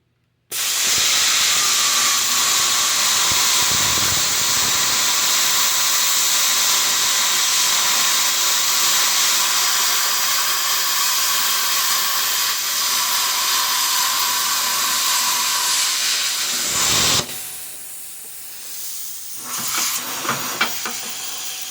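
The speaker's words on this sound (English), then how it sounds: "I got it switched back to air just to make sure the plasma cutter is working." A plasma cutter running on compressed air gives a loud, steady, close hiss of rushing air and arc for about sixteen seconds, then cuts off, leaving faint hiss and small knocks.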